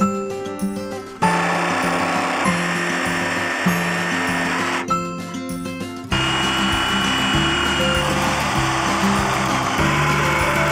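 A loud power drill drills a hole in a van body, whirring steadily, pausing briefly twice before running again, with a grinding, rubbing edge as it works through material.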